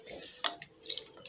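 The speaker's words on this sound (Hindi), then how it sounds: "पानी डालूंगी, पानी बस थोड़ा सा डालूंगी" A little water is poured into mixed vegetables cooking in an Amway Queen pan, heard as a few faint splashes and drips, quiet and scattered over a soft background.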